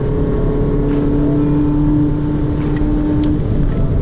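A 2018 Volkswagen Polo GTI on a test drive hums with a steady engine drone and road noise, engine note settling as the car slows, with faint clicks near the end.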